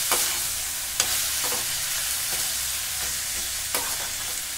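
Drumstick leaves sautéing in a pan, a steady close sizzle with a few light scrapes and taps of a spoon stirring them, no voices.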